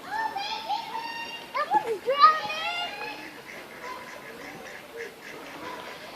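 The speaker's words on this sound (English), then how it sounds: "Quack, quack. Listen, quack, quack. The duck. There's a quacky duck." Ducks quack in a park pond while children chatter and shout excitedly nearby, the bird calls mixed in with high-pitched young voices at close range.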